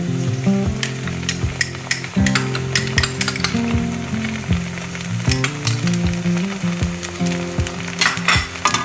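Golden onions with ginger garlic paste sauté in a hot pan, a continuous close sizzle broken by occasional stirring scrapes and light clinks of a utensil against the pan, with no talking.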